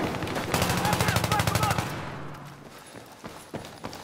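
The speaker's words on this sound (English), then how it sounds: "Fuck, I'm taking fire!" Rapid automatic gunfire from the Battlefield 3 video game, Rush mode on Operation Metro, rattles loud and close for about two seconds, then fades into scattered single shots and distant battle noise, with a voice speaking over it.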